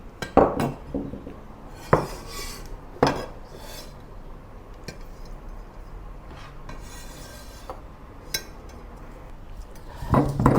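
Chili and garlic pounded together in a stone mortar for Thai basil fried rice, heard as a few sharp, close knocks and clinks at irregular intervals over a low kitchen rustle, with no talking.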